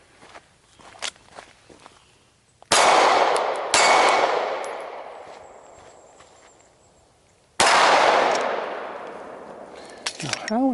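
A Glock 17 pistol fires on an outdoor course, three sharp loud reports spaced seconds apart, each ringing out with a long echoing decay, with light footsteps and handling clatter before the first shot.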